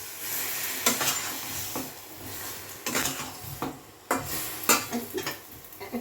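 Bogori misti achaar being stirred in a pan over a low gas flame, with scraping spoon strokes against the metal and soft sizzling in between, coming in irregular bursts with no talk.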